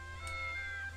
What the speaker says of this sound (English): the cat looks at me judgingly and just meows